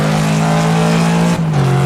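Ford Mustang engine held at high revs while drifting in a racing game, a loud, steady buzzing drone with a brief dip near the end before the pitch settles slightly lower, with no talk.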